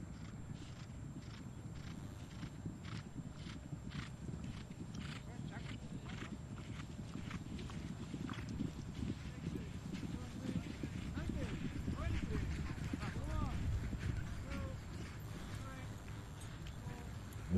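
Horses gallop across the field in a polo match, hooves thudding in a steady rapid rhythm beneath continuous commentary and crowd noise throughout.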